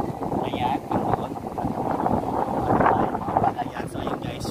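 Strong seaside wind buffeting a camera microphone, a constant rough low rumble with gusty swells throughout, heard alone without talk.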